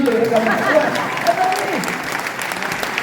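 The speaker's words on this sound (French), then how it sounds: "on applaudit que lui, ils sont deux." Applause from a show audience for a couple, a dense continuous patter of clapping heard throughout, with voices speaking faintly over it.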